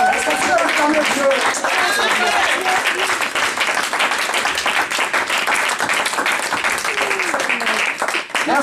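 A church congregation applauding and cheering God, dense sustained clapping with shouts and whoops from a large crowd, loud and continuous, fading a little toward the end.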